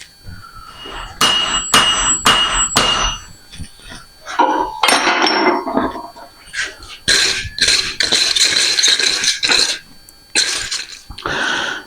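Coat hanger wire hammered flat on a hard surface, a series of sharp metallic impacts in quick bursts with short pauses, close and fairly loud, no talking.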